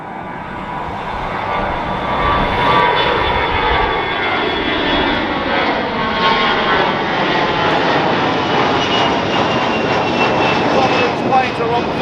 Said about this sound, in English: we must see another takeoff